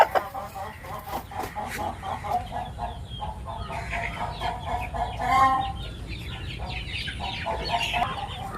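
Pure Nava Jeero fighting rooster breeding birds cluck and call in a breeding unit, with a steady stream of nearby clucks and short calls over a low background hum.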